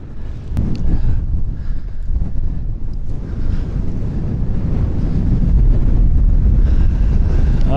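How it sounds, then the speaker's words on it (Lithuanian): Strong wind blowing along the Arctic coast of Svalbard, a loud, continuous roar buffeting the microphone, with the low rush of sea waves beneath it throughout and no voices. "vėjukas pučia gerai"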